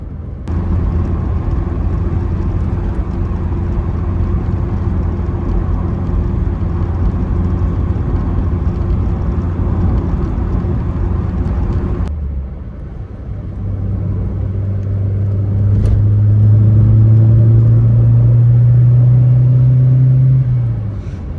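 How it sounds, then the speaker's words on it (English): A 1990 Renault 5 GT Turbo accelerating hard on the road, a loud steady engine drone that drops briefly at a gear change, then climbs again in strong rising revs. "No hesitancy there on hard acceleration. Turbo boosted up nicely."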